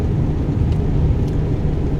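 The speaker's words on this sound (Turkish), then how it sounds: "Şimdi profillerden de bayağı ses geliyor yukarıdan." Steady broadband road and wind roar inside a moving Mercedes Sprinter van, with rushing air noise from the roof profiles over a low engine and tyre rumble, continuous and fairly loud with no talking.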